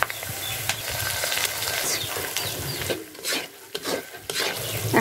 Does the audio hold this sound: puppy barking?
no